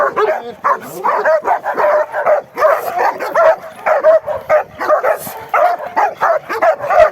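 A dog barks and yelps in rapid, repeated bursts, close and loud, with a steady excited rhythm throughout.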